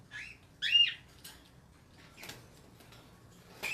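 A small pet pied bird gives a few short, close chirps, with faint light fluttering and ticking movement sounds between the calls in a quiet room.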